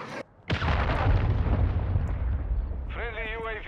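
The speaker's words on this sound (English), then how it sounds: "Friendly cruise missile approaching target." Cruise missile strike explosions in a Call of Duty game: a short quiet gap, then a heavy booming blast that rolls on as a loud rumble, followed by a brief radio-style voice near the end.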